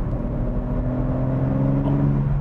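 A BMW M3 Touring's engine and exhaust in sport mode, with sport exhaust sound switched on, give a steady, loud, low droning rumble heard from inside the car, with no talk.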